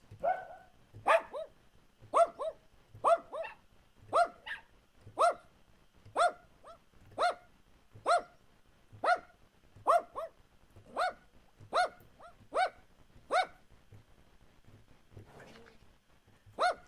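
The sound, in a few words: dogs barking sound effect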